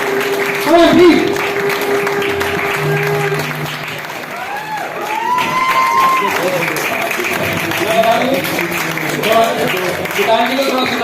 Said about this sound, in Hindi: तालियों के साथ स्वागत कीजिए विकास जी काउंडल को